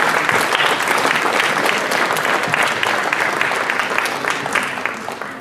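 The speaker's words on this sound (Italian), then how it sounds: "Ci sembra doveroso fare un applauso agli ospiti che ci ritroviamo stasera" Audience at an evening outdoor band concert by a large town band applauding the guests, thick sustained clapping from a crowd that tapers slightly near the end.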